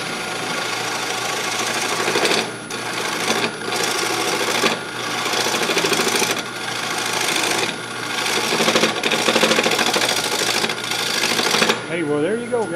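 A honey locust wooden bowl is cut off the lathe, a loud, close, steady grinding and rasping of the tool on spinning wood, interrupted by short pauses, with a whirring wind-down at the end.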